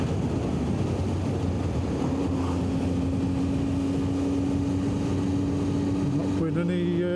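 A 1990 Honda CBR600F motorcycle engine holds a steady, continuous drone while cruising through the countryside, with heavy wind rush over it and a voice talking throughout.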